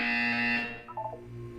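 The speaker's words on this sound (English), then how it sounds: "You will hear a buzzer." A buzzer sounds in the Portal 2 video game, a loud steady electronic tone that cuts off after about half a second, followed by brief low warbling tones.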